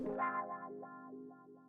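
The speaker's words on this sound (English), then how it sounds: "The first one is this classical wah guitar." A short wah-effected electric guitar phrase, sliding notes that sweep up and down with a vocal-like filter, played alone with light echo.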